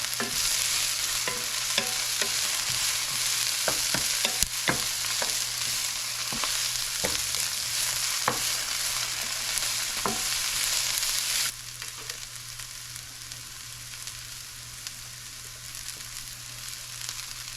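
Cabbage, onions and mushrooms fry in a pan with a steady soft sizzle and occasional scraping stirs, and the sizzle drops quieter partway through as the heat is lowered.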